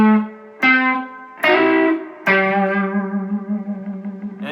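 Electric guitar with distortion and effects plays a blues lick: a few sharply picked notes bent and sustained, settling on a ringing G with vibrato that slowly fades.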